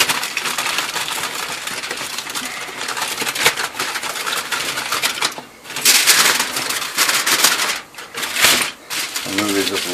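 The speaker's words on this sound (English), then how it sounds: "I'm going to take them, bring the foil up." Loud, continuous crinkling and crumpling of aluminium foil being folded up around stacked rib racks, close and busy with brief pauses, while a person talks.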